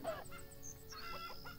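Chickens in the farming video game Farm Manager 2018 give a few short, soft clucks and squawks in quick succession, faint and with no voices.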